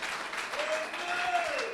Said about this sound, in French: Que quelqu'un acclame cette parole.